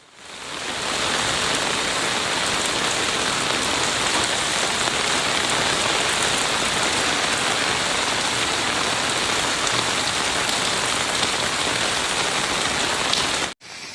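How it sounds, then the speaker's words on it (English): Heavy rain pours steadily during floods in southern China, a loud, dense, continuous hiss of water with no voices, cutting off abruptly near the end. "persistent rainfall leaving rivers and waterways under increasing pressure"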